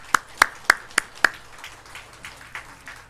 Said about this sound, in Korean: 우리 성탄절 날 하나님께 영광의 박수로 올려드립시다.